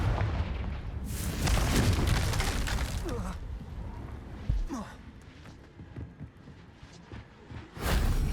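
A Confringo fire spell in Hogwarts Legacy erupts in a deep, rumbling blast with crackling debris, fades into low background noise, then flares again in a second burst near the end.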